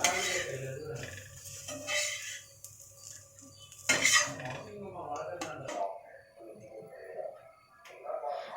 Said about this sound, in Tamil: மறுபக்கம் திருப்பி போட்டு தோசையை எடுத்துக்கலாம்